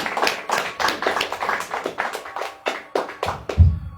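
A church congregation claps together in a quick, even rhythm, a close run of sharp hand claps with no talk over it.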